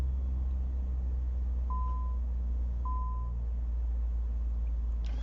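Ground proximity warning in Microsoft Flight Simulator 2024 on a flight from Reykjavik to Jan Mayen: two short, clear electronic beeps about a second apart, sounding over a steady low cockpit rumble with no talking.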